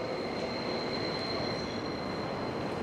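A train passing through a railway station, a continuous loud rumble of wheels on rails with a steady high squeal running throughout.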